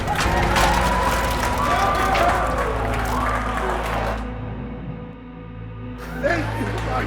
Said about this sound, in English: Give a big round of applause for